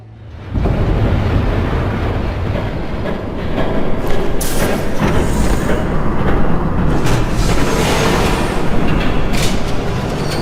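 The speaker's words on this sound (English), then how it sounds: "There's a train coming." A train rumbles past in the video game Batman: The Telltale Series, a loud sudden onset of heavy rolling clatter with metallic clanks and bursts, sustained and building slightly throughout without speech.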